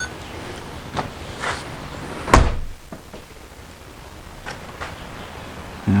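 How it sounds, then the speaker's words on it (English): The door of a 1988 Ford Thunderbird Turbo Coupe swings shut with a single solid, close slam, after some faint shuffling and handling noise and followed by a quieter settling hush. "Let's close the door and see what happens."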